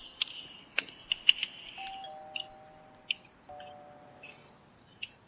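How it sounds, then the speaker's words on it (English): An electronic doorbell chimes in a few quick tones, followed by a sustained two-note ring, heard indoors with soft background clatter and no talking. "I'll go in and ring the bell then."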